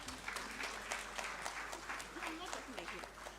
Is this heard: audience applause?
yes